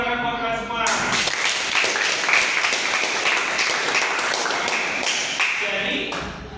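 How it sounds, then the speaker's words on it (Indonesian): Eighth-grade class applauding together, a dense burst of many small hands clapping for about five seconds, framed by a teacher's voice before and after. "Tepuk tangan buat kalian semua."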